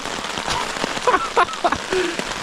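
Rain pattering at a winter bivouac camp outdoors, a steady close patter with a few louder drops and faint background noise.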